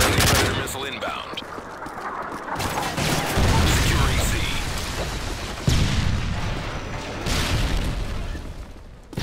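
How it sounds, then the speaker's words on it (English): In Call of Duty Modern Warfare 3 multiplayer, booming explosions and heavy gunfire roll through a loud, dense battle, with a strong blast near the middle and an in-game voice speaking over the din. "Friendly Predator missile inbound."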